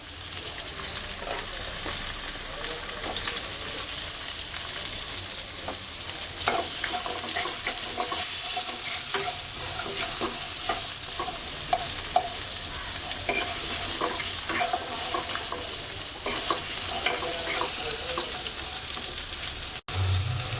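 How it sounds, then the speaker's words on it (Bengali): Potatoes seasoned with turmeric and salt fry in hot oil with a loud, continuous sizzle and occasional scraping stirs, steady throughout. "এবার আলু ভেজে নিচ্ছি"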